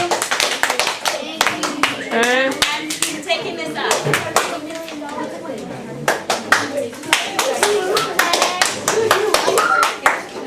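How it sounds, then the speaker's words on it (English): A classroom of students claps in loose, scattered bursts, sharp close hand claps mixed with chatter and children's voices, and a brief spoken remark partway through. "You give her 3 claps, thank you."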